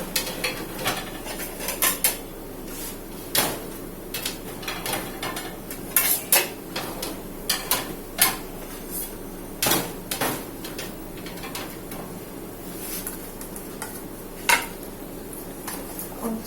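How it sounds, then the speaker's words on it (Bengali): Plates and dishes being set onto a kitchen dish rack, with repeated sharp clinks and clatters of ceramic and metal at irregular intervals, fairly close and without talk. "তো আমি এখন প্লেট সাজাবো।"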